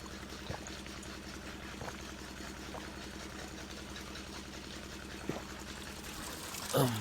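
Water flows steadily in an old step-well in a Punjab village, a faint, continuous trickling wash with no voices over it.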